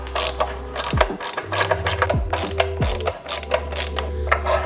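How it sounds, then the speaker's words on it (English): A ratcheting tool clicks steadily while removing two T20 screws from the mass airflow sensor on a BMW F30 with a B48 engine during an intake install, with close rapid ratchet clicks and occasional pauses, and no talking. "next we're gonna remove this 2 T20s for the mass airflow sensor."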